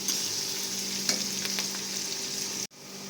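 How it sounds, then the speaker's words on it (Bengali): Steady sizzling of chopped onions frying in oil until browned, with a few soft stirring scrapes, then a brief cut near the end. "পেঁয়াজগুলো একটু ভালো করে লাল লাল করে ভেজে নেবো"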